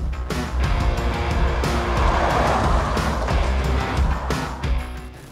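The engine of a BMW M135i xDrive with an eight-speed gearbox pulls up through the revs, a steady rising drone heard from inside the car, moderately loud with small surges and no talking.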